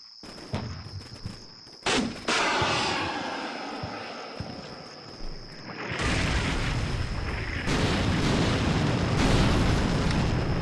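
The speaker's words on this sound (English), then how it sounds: "I got another random artillery hit here." Artillery shells strike in a military video game, sharp booming blasts followed by a sustained rumbling roar of further impacts and debris, loud and close.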